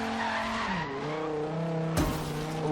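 A Dodge Viper drifting in Forza Horizon 3 gives off a sustained, wavering tire squeal over a loud, droning engine, with the pitch bending as the slide goes on and a sudden sharp jolt near the end.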